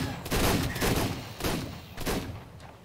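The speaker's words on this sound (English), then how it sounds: "Double shotguns unloading like that." Double shotguns blasting in the video game ARK on The Island map, a loud burst of rapid overlapping shots followed by two more quick volleys, close and harsh with no talking.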